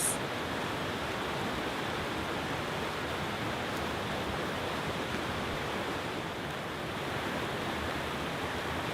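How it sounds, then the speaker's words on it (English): Stormy forest stream cascading over a series of stones into small white waterfalls, a dense, steady rushing roar heard close and unbroken, with no voices. "The stormy stream cascades over a series of stones, creating the effect of many small, white"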